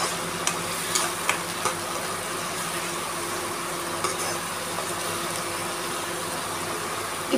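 Cumin, cinnamon and tomato-onion paste sizzling in hot oil, a continuous dense hiss with a few light clicks and scrapes of stirring scattered through; no talking.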